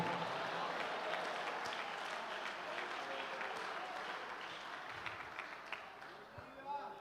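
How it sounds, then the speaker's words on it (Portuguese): A church congregation applauds in a broad, steady wash of clapping that fades slowly, with scattered voices calling out over it during a worship service. "Se é para aplaudir, aplaude e diga glória a Deus"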